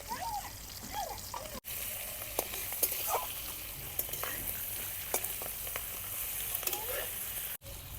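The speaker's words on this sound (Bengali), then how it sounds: "অল্প হলুদ দিয়ে ভাজে নিই" Fish roe seasoned with a little salt and turmeric fries in a pan, a steady close sizzle with stirring scrapes and brief spatters, interrupted twice by short cuts in the sound.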